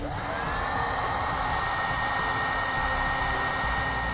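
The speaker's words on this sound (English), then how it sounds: "we can use a heat gun to activate our heat shrink." A heat gun blows a steady, loud hot-air whir with a constant high whine while shrinking heat shrink tubing over trailer wiring connections, running alone without pause.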